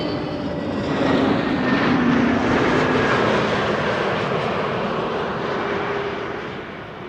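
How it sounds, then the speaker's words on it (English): An EasyJet Airbus A320neo arriving from Valencia at Schiphol passes with a steady, fairly loud engine rush that peaks briefly and then tapers off gradually. "EasyJet up next, arriving from Valencia, A320neo"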